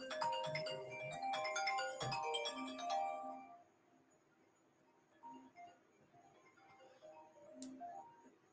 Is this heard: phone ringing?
yes